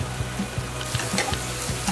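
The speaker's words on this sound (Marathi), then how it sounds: "भाज्या आपल्या छान परतत आलेल्या आहेत टोमॅटो पूर्ण असं मॅश झाला आहे" Vegetables and tomato sautéing in a pan for masala Maggi give a steady close sizzle, broken by soft rhythmic scraping taps of a spatula stirring, with no one talking.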